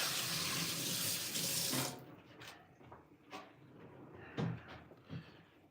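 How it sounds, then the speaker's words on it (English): Water runs from a kitchen faucet as hands are washed during lasagna cooking. A strong steady stream flows for about two seconds and then shuts off, followed by soft drips, splashes and light clatter at the sink. "Wash my hands really quick."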